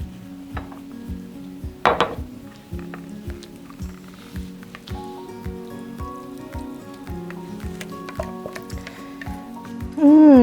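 A pan is handled on the stove while a plant-based vegan dish cooks, giving repeated light clinks and knocks of metal cookware over a steady low tonal background, with a sharper clatter near the start and a louder burst at the end.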